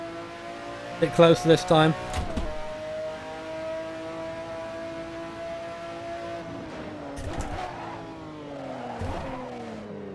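An F1 GTR race car in Assetto Corsa drones at steady revs, then its engine note drops with sharp throttle blips on a downshift from fifth to second, followed by more shifting blips; someone speaks briefly.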